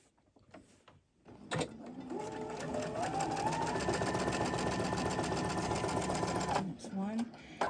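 Sewing machine running steadily for about five seconds as it stitches fabric, a continuous close mechanical whir with rapid needle rhythm, preceded and followed by brief handling noises and a voice.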